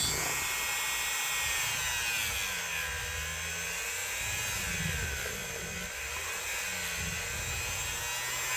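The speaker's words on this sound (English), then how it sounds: "I don't know if I can get the Dremel on there or not." Dremel rotary tool working on a vintage electrician's knife, a loud, steady high-pitched whine whose pitch wavers slightly as it bears on the metal, continuous and close with no speech.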